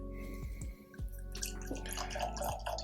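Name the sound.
adding water to a glass of Bowmore 12 whisky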